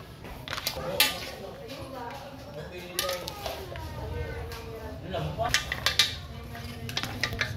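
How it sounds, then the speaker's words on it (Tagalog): Utensil clinks and pan scrapes from stirring seafood pasta (frutti di mare) in a pan, a steady run of close metallic taps and clatters with background voices talking throughout. "Haluin ang ating prota di mare."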